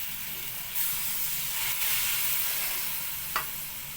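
Water splashed into spices frying in a pan for a chicken giblet curry gives a soft, steady sizzle, with brief hissing bursts flaring up now and then amid faint background noise.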